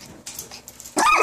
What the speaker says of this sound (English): Stop it, Bella dog